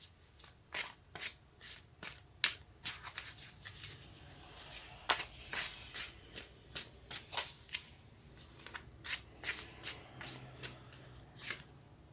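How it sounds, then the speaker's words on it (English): Tarot cards being shuffled and drawn by hand, a rapid series of crisp riffling snaps and slaps close up, steady and fairly quiet with no talking. "now let's take a card for the Seven of Wands"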